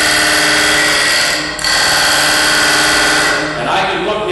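Wood lathe running steadily with a cutting tool engaged in the spinning wood, a continuous loud whirring drone that dips briefly partway through, close by with no talk.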